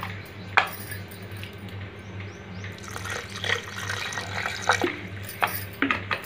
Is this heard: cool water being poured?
yes